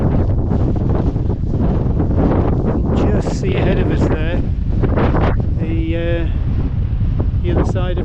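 Strong wind buffets the microphone in a constant low roar, while a person talks intermittently over it outdoors on a trail in the Scottish Borders.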